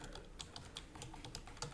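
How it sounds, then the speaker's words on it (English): Soft, rapid keystrokes on a computer keyboard, a quiet irregular clatter of taps heard alone at low volume. "So here I'm typing"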